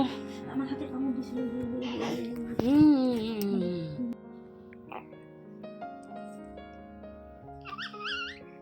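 Dogs let out high, wavering whimpers and short yips, with one drawn-out whine standing out, mixed in among people talking nearby.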